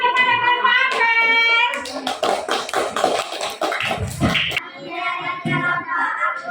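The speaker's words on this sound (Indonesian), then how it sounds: "tepuk tangan kepada kelompok Apel" Classroom applause for a student group, close rapid hand claps from several children, preceded by a brief tonal sound and mixed with children's voices and shuffling.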